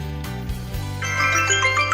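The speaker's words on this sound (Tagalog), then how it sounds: "ang tunog ng cellphone ko na" A cellphone ringtone plays loudly nearby, a bright electronic melody of repeating tones over a low hum.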